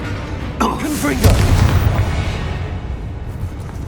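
A Confringo fire spell in Hogwarts Legacy bursts with a deep boom and a short crackle, then rumbles on behind a spoken voice inside a dim mine.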